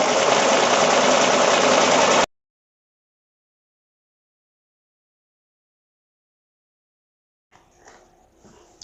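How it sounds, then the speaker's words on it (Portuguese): Sewing machine running steadily in a loud continuous burst while stitching bias binding along a fabric fold, then stopping abruptly into silence, with faint handling noises near the end. "E vou costurar nessa linha aqui, ó, nesse vinco da dobra."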